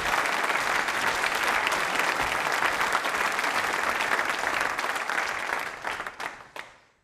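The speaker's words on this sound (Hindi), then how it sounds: "तालियां जोरों से बजाइए इनके लिए आप।" Steady dense audience applause at a university quiz show, loud and sustained before tapering off and fading out, with no voices over it.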